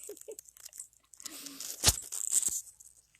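An ambassador animal at a wildlife center crunches and tears at fish laid on a towel: a few crisp, close crunches over soft rustling, with faint wet chewing in between.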